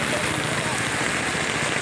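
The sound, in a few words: heavy continuous rain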